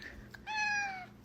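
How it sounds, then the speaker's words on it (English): A single clear, drawn-out meow from a pet cat, close and fairly loud, gliding slightly downward in pitch, with no talk over it. "Can you give me a meow?"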